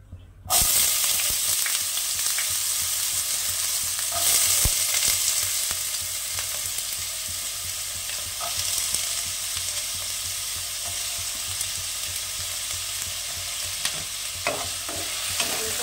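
Potatoes frying in a little mustard oil in a wok, a loud continuous sizzle that starts abruptly, with occasional scrapes and taps of stirring, no voices.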